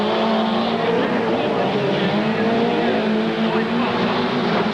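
Sport trucks in a Grand National race at Rice Stadium in Salt Lake City roar into the first turn, a dense, loud engine wall that stays constant, with a voice speaking under the din.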